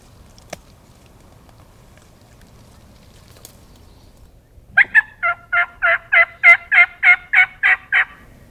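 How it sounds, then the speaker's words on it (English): A wild turkey gobbles on public land in Iowa, a loud burst of about ten rapid, rattling gobble notes after a quiet stretch of faint background hush. "He's gobbled 5 or 6 times in the last couple minutes."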